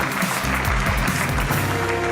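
Applause at an Oxford University convocation ceremony, a loud, dense, continuous wash of clapping from a large crowd lasting a couple of seconds.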